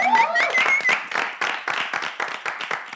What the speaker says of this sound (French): est-ce qu'on peut déjà applaudir Christelle Dessay?